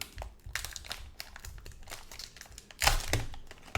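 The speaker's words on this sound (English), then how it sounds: "inside it's wrapped in foil paper. I'm going to go ahead and open this up like a bag of Doritos" Foil paper wrapper around a Fujifilm QuickSnap disposable camera being torn open by hand like a chip bag, close crinkling and crackling bursts with one louder rip near the end, no voices.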